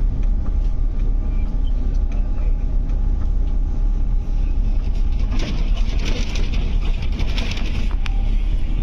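Interior of an Indonesian sleeper bus with semi-bed seats while traveling: a loud, steady low rumble of engine and road noise, with rattles and a brief rise in hissing, rustling texture partway through.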